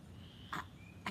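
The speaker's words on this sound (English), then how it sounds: "I can hear a frog down in the creek." A frog down in a creek gives two short croaks about half a second apart, faint and a little distant against quiet outdoor background hiss.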